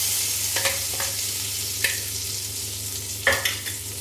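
Garlic chutney frying in a pan over medium flame, a soft continuous sizzle broken by a few sharp scrapes and taps as a spoon stirs it.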